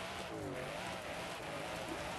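A Forza Horizon 5 car engine revs and drones steadily, rising in pitch, with some tire noise, heard alone at moderate loudness.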